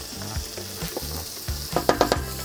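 Mushrooms, onions and butternut squash sizzle in a pan as a vegetarian stuffing, a steady close fry broken by a few louder stirring scrapes toward the end.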